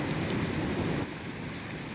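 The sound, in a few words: rain falling in the video game Tales of Berseria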